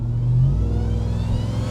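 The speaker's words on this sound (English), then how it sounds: "you can just hear the whine in the background building as you accelerate" RAM TRX pickup with a supercharged engine accelerating, a loud low engine rumble heard from inside the cab with a faint whine rising behind it.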